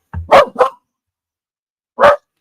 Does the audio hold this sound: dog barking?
yes